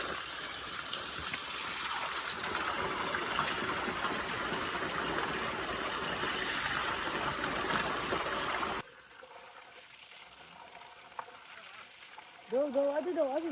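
Water rushes and splashes constantly from a large waterfall near Pokhara, loud and broadband for several seconds, then cuts to near quiet, followed by a few words of talk.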